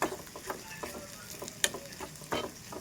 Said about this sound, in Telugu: తర్వాత దాన్ని మళ్ళీ ఫ్రై చేసుకోవాలండి